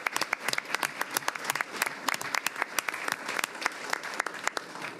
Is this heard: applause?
yes